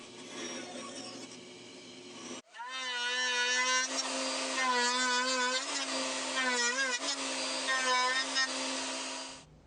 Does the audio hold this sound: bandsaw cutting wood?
yes